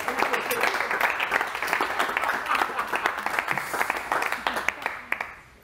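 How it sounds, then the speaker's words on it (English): A live parlour magic show audience claps and applauds steadily throughout, a dense, fairly loud round with individual claps standing out near the end as it tapers off. "Let's give her a big round of applause."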